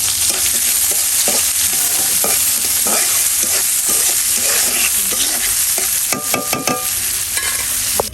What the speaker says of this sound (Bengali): পেঁয়াজ মরিচগুলো ভেজে নিই